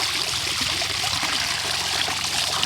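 Running water splashes steadily as a sea crab is rinsed for crab rasam, a close, continuous trickling gush with no one talking.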